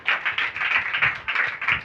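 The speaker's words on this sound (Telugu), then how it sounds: "చప్పట్లు పడదామా?" A church congregation breaks into applause, a dense, steady clapping that lasts the whole moment and swells in small waves, with no voices over it.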